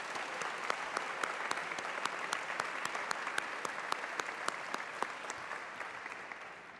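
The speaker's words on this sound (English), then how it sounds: "please join me in a round of applause for all of our firefighters" Applause from the audience at a fire department swearing-in ceremony in Peabody, honoring the firefighters; even, sustained clapping with crisp individual claps, moderately distant and fairly quiet, tapering off at the end.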